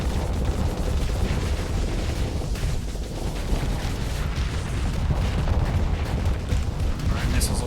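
Missiles launching and detonating in Starsector space combat, a dense, steady wash of booms and bursts that runs throughout at fairly loud level, with speech mixed in over the barrage.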